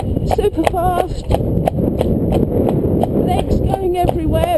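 Horse hooves trotting fast and hard on tarmac, a rapid run of sharp clip-clop strikes close by, with a person talking over the hoofbeats throughout.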